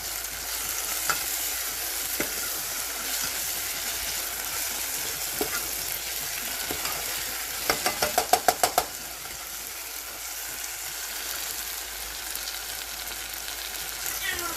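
Chili pepper frying in oil in a pan, a steady broadband sizzle with occasional stirring scrapes and a short burst of clicking taps near the middle, no talk.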